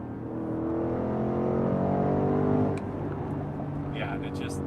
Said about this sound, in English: that exhaust note is so exciting